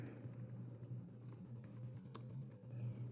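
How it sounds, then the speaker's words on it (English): Keys patter on a computer keyboard while typing notes into OneNote, a quiet irregular run of soft clicks over a low steady hum, with no talk. "So I can start typing here,"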